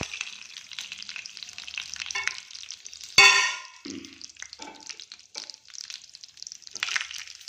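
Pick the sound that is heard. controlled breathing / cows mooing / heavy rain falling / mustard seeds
mustard seeds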